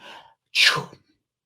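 A voice imitates a sneeze: a short breathy intake, a pause, then one sharp, forceful burst.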